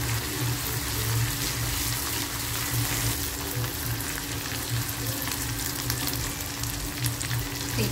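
A paste of ground ginger, garlic, coriander and chilli hits hot oil for a pomfret chutney, giving a loud, continuous, crackling sizzle that stays dense and close throughout.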